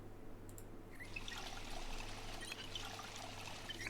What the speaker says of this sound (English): Fill up this fountain cup one time